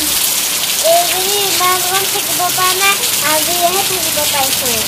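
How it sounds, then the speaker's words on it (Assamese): Rainwater splashes and patters loudly and continuously onto surfaces during a downpour, a steady wash of drops while a voice talks over it in a sing-song way. "সেইফালে বৰষুণৰ পানী হাকুটিয়াই আছে"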